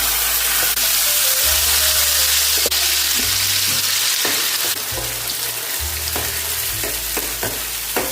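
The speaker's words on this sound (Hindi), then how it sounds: "तेल गरम हो गया है। अभी इसमें डालेंगे आधा चम्मच जीरा।" Cumin seeds crackle and sizzle in hot oil, a bright continuous frying hiss with sharp pops and a low steady hum underneath.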